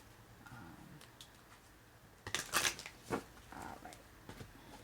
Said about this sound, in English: I'm really shuffling these cards